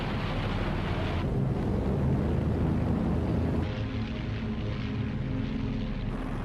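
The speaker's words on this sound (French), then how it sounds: "Dans le ciel russe, les avions allemands combattent à 1 contre 5." German WWII military airplanes in flight over Russia, heard as a loud, steady engine drone with a broad roaring wash that shifts slightly in tone midway and carries on without a break. No one speaks.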